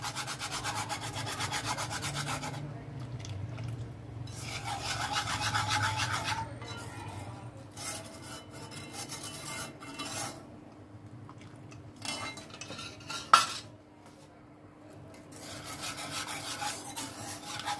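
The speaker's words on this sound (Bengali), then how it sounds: "এইভাবে অনবরত এখন একটু নাড়বো, আর একটু কম হোক দুধটা" Milk thickening in a pot while a utensil stirs it continuously, giving a steady scraping, rubbing sound close by, with a single sharp clink near the end.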